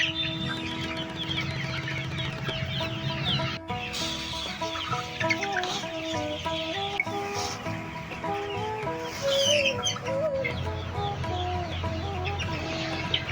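Tiger and Sonali chickens raised together cluck and call almost without pause, many birds overlapping at close range in a steady, busy chorus with no talk.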